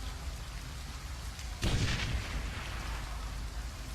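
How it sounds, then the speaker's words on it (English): Explosion in the Shadowrun: Hong Kong video game as a demolition charge destroys a bridge and barricade: a sudden loud broadband blast midway, with a rumbling low-end tail that lingers under steady ambient noise. "The explosion is deafening."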